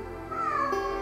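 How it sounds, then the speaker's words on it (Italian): A house cat meows near the microphone, giving one drawn-out, rising and falling cry over a steady low background hum. Nobody talks. "Io ho sempre un gatto che mi rompe le scatole quando sto effettuando i tutorial"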